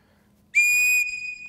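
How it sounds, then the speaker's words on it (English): A loud 120-decibel survival whistle built into a fire starter sounds one sharp, piercing blast up close in a shop, holding steady for about half a second before dropping to a slightly softer continuing tone, with no talking. "it's got 120 decibel freaking whistle in that rascal too"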